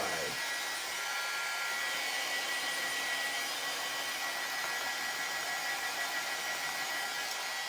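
A handheld blow dryer runs continuously, close and loud, drying a paper craft piece with a steady whirring hiss that holds level throughout.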